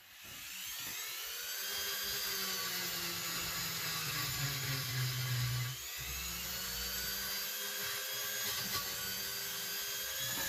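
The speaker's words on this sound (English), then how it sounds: "Get the Dremel tool out here" A Dremel rotary tool cleans the primer area on a McCulloch Model 73 chainsaw, a continuous high-pitched whine held close and loud for about ten seconds with a brief dip midway.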